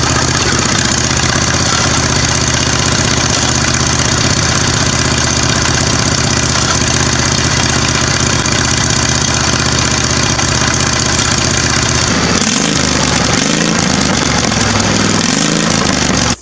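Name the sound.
mower engine with zero-turn exhaust running as boat motor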